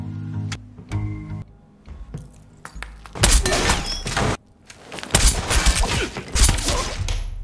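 Gunfire in an action film, bursts of sharp loud shots and impacts starting after a few scattered thuds, intense and dense in the second half with brief pauses.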